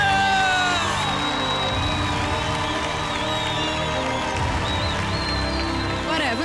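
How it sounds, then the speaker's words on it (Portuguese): Television singing-competition audience on The Voice Portugal cheers for a contestant after a battle round, loud whoops and shouting from a crowd over music and a busy mix, sustained and energetic. "Um grande aplauso para a Marlene!"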